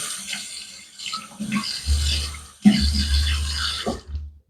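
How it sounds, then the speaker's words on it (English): A bathroom tap runs in bursts for a cold rinse after a shave with a 1957 Gillette Blue Tip razor, the water splashing close by into the sink, pausing briefly, then gushing again, with no voices. "let me just give it a cold rinse and we'll do a little aftershave"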